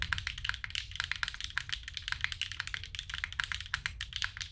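Someone types steadily at normal pressure on a Mode Encore mechanical keyboard. The fast, close, crisp clacks come in irregular bursts, with no voice.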